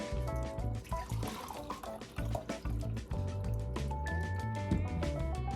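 Lavender syrup trickles and drips while being strained, a close, continuous liquid pouring and splashing sound with no talking.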